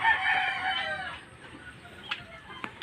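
A rooster crows loudly and close by, one long drawn-out call over the first second, followed by quieter background with a few faint clucks or chirps.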